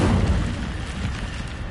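An Incendio fire spell from the Hogwarts Legacy video game is cast with a loud, close, roaring burst that opens strongly and keeps up a dense, crackling, rumbling rush for under two seconds.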